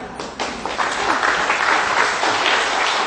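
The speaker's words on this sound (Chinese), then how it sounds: "来掌声鼓励一下" Audience clapping at a lecture hall talk, a dense, loud round of applause that swells in after a brief moment and holds steady to the end.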